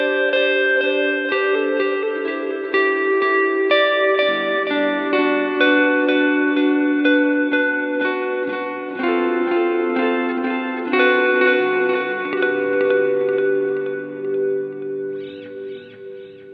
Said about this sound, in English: we move up to the Earthquaker Devices Avalanche Run, the much revered delay reverb pedal